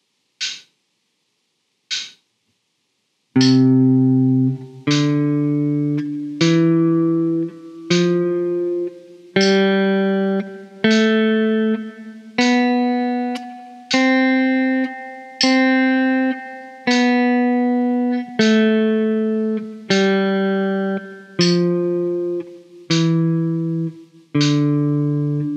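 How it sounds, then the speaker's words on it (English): Single guitar notes ring out one per beat in a steady rhythm, each struck in time with a sharp metronome click; two lone clicks lead in. "Now, the metronome clicks."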